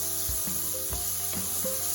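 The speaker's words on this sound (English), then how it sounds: "We're gonna render the fat from our bacon, and we're gonna use that bacon grease to saute our garlic and our onions" Bacon renders its fat in a hot pan with a steady, close sizzle and crackle, and a few louder pops and stirring scrapes break through.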